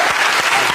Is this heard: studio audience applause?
yes